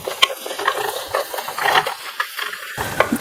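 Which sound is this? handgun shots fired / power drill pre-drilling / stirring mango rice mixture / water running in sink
stirring mango rice mixture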